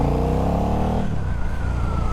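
A motorcycle fitted with a Vandemon full exhaust system accelerates during a low-end road test, a loud harmonic engine note rising in pitch and then fading into a smoother roar.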